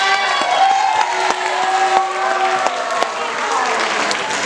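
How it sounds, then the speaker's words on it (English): A crowd applauds the dance leaders at an evening school dance event, steady dense clapping with some cheering and whoops throughout, fairly loud and close. "let's also give a round of applause to the dance leaders who choreographed and taught the dances you enjoyed tonight"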